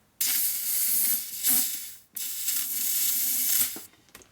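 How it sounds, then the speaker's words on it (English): Compressed air hisses loudly from a rubber-tipped nozzle into a part of a 1946 Harley knucklehead engine being rebuilt, in two strong blasts with a short break between them. "I'm going to take a rubber tip nozzle and put some air in there."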